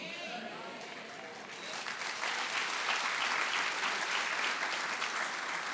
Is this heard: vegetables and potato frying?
no